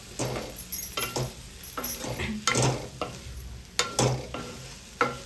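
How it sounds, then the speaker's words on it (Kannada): Radish, carrot and knol-khol vegetables fry in a pan for wheat noodles, a soft sizzle punctuated by repeated loud scraping stirs of a spatula against the pan at irregular intervals. "ಚೆನ್ನಾಗಿ ಇದನ್ನು ಮಿಕ್ಸ್ ಆಗೋಸ್ಕರ ಫ್ರೈ ಮಾಡ್ಕೊಳ್ಳಿ"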